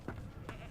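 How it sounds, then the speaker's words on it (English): A sheep in the video game Divinity: Original Sin 2 gives a short bleat, with a second fainter bleat soon after, over quiet game ambience. "And there is a sheep."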